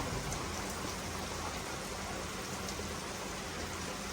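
Rain falls steadily and densely, a constant hiss of drops with no other sounds.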